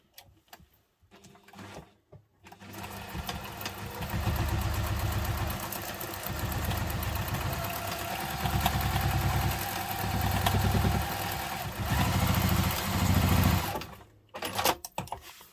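Sewing machine stitching back and forth across a messenger diaper bag seam, a close mechanical whirring with rhythmic pulses that speed up and slow in several runs, framed by brief handling clicks.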